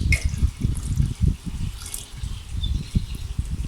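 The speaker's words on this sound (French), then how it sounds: "On finit du coup de verser nos 5 litres d'eau." Five litres of water pour into a container with a continuous, gurgling low splashing and irregular bubbling pulses, fairly close and steady throughout.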